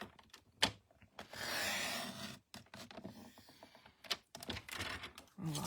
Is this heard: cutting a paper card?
yes